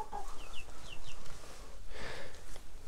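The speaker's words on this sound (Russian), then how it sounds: "А, вон он, маленький цыплак появился." A chicken clucks in a coop on a rural property, several short soft clucks in quick succession, close and moderately loud against light background noise.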